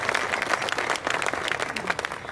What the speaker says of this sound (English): yeah, that deserves a round of applause.